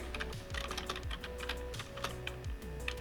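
Typing on a computer keyboard at a command prompt, a quick run of close, crisp key clicks with an irregular rhythm, fairly faint, no voices.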